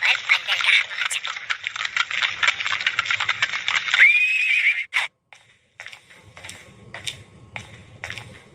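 A horse whinnies over a rapid, continuous clip-clop of hooves as a merchant rides it toward a harbour. The sound is fairly loud and close, then breaks off into sparse clicks and a low rumble.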